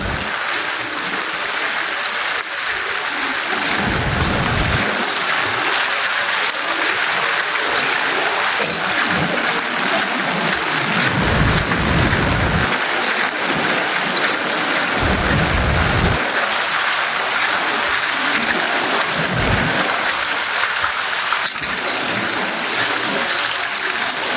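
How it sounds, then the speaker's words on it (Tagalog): Heavy rain pours steadily outdoors during a walk in Japan, with several deep rolls of thunder rumbling through at intervals over the constant hiss of rainfall; no one talks. "Paglalakad sa gitna ng ulan."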